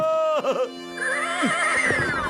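A cartoon horse lets out a loud, drawn-out whinny that wavers and falls, close and clear, with a brief musical tone before it.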